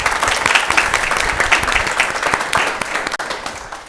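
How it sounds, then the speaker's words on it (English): Enthusiastic applause from an audience, dense clapping throughout without pause. "another round of applause for Sophie."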